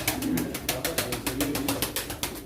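At a Çorum pigeon auction, cooing pigeons sound close and fairly loud, over a steady run of rhythmic sharp pulses with little talk.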